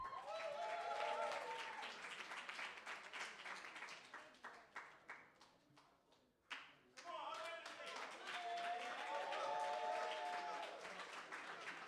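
A crowd claps for a poet being called up at a faith-based poetry event, a steady patter of many hands that thins and falters midway before swelling again, with voices chattering through it.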